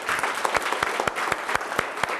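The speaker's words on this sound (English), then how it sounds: "Give them a fantastic round of applause." An audience applauds three guests at an evening event, with brisk, steady clapping from a moderately sized crowd and some individual claps standing out sharply from the wash.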